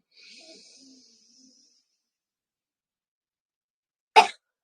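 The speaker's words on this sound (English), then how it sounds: "A little cough." A single deliberate little cough ends a soft exhale during a morning qigong breathing exercise, preceded by a faint breathy sigh and quiet pause, close and short.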